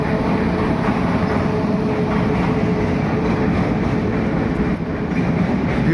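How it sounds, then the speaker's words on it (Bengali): Two Indian trains pass together in Bangladesh, a loud, continuous, close rumble of rolling wagons with a faint clickety-clack of wheels on track and no voices. "একসঙ্গে দুটো রেল গেল, ইন্ডিয়ান রেল।"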